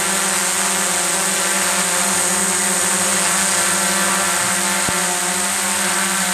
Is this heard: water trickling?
no